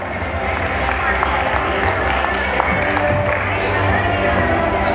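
Audience applause and crowd murmur at a wheelchair distribution ceremony, steady clapping held for several seconds in a large room.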